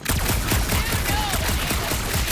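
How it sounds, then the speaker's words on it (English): Dense, continuous rapid gunfire in Guardians of the Galaxy, loud and close, with shots packed into an unbroken barrage. "that shooting's not aimless"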